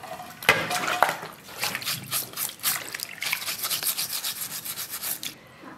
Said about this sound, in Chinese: 把落干净毛的猪皮先洗一下